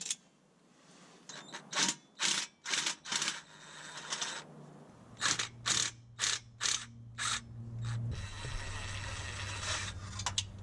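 Short rattling bursts of an impact wrench working on Subaru exhaust header bolts, about a dozen quick hammering blasts in a stop-start rhythm, close and loud, over a steady low hum.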